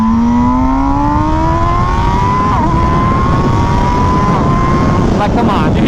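An MV Agusta Brutale motorcycle revs up through the gears, its engine note climbing steadily then dropping at each shift, loud and close as if recorded on the bike, with wind rush underneath.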